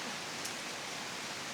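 Steady rain falls at a campground near Wombeyan Caves, a dense, even hiss of drops with no breaks, loud and close throughout the short stretch.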